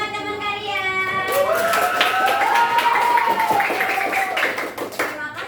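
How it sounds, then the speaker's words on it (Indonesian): Young classmates clap for a fellow student in a classroom, a lively burst of hand claps that swells and then fades, mixed with children's voices and shouts. "tepuk tangan buat teman kalian."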